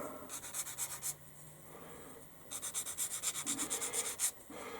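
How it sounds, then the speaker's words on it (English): Plastic model kit part for a 1/72 Airfix B-17G rubbed with a sanding stick: two bursts of quick, rhythmic scratchy strokes, close and fairly quiet, separated by a brief pause, with no talking. "it's better to use a sanding stick than a knife"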